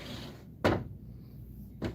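An old wooden drawer with a wavy front on an antique piece of furniture slides open or shut twice, each a short, soft wooden scrape heard alone in a quiet room.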